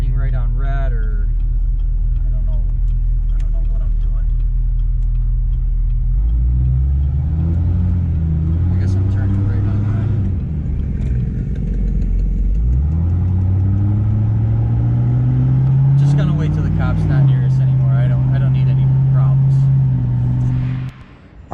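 A lifted L5P Duramax pickup truck driving on a road, its engine a low rumble that swells and drops as it accelerates and shifts, with people talking over it throughout.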